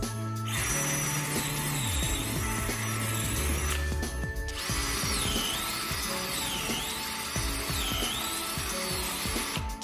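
A Bosch GSR 18V-28 cordless drill-driver with a metal keyless chuck runs at maximum speed, its motor whining loudly in long bursts that dip and surge in pitch, with a brief pause between runs.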